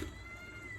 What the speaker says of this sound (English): If you can hear him meowing.